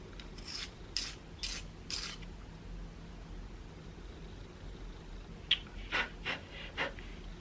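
An Australis eyebrow pencil is sharpened with a knife: two short runs of about four quick, scratchy rasping strokes each, close and fairly quiet, separated by a pause of near silence.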